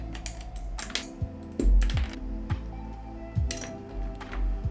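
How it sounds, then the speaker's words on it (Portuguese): Typing on an Epomaker EK68 mechanical keyboard with linear switches, a brisk irregular run of clacky keystrokes, close and moderately loud, with no talk over it. "são switches aí lineares, com um som bem clack"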